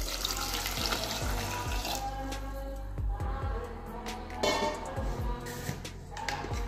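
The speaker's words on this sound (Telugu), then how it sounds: "దీంట్లో కొన్ని వాటర్ పోసుకోవాలి" Water is poured into a cooking pot holding cut bottle gourd and drumstick pieces for majjiga pulusu, a steady close splashing and gurgling stream at low volume, with no talking.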